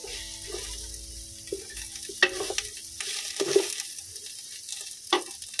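Curry is stirred in a pan of frying beef curry cooked over a wood-fired stove, with soft sizzling and intermittent scraping spoon strokes against the pan, close and moderately loud.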